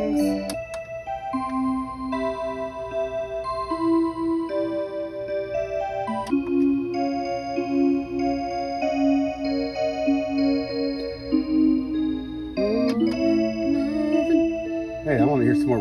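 A Seiko Melodies in Motion wall clock plays a chiming melody loud and steady for about fifteen seconds, a music-box-like tune with faint mechanical ticking of its turning gears beneath, and a brief rise in clatter near the end.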